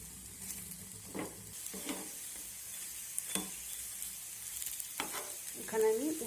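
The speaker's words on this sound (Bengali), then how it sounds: "এখানে আমি উল্টে পাল্টে বড়া ভাজাগুলো লাল লাল করে ভেজে নিয়েছি।" Pumpkin-flower and egg fritters fry in a pan, turned until reddish-brown, giving a continuous soft sizzle broken by a few scraping flips of a spatula, close by with no talk.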